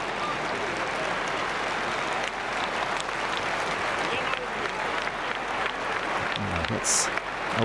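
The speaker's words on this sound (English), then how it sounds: "It's a warm round of applause as he limps off the pitch here" A stadium crowd at a Germany vs. Hungary under-21 European qualifier football match applauds an injured player limping off, a steady, dense wash of clapping throughout, with a commentator talking over it.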